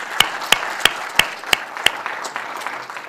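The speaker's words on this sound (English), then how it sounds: "give a round of applause for our elected officials" Sparse clapping at an inauguration ceremony honoring elected officials: a handful of sharp, evenly spaced claps from a single person, fading into a few softer, scattered claps in a quiet room.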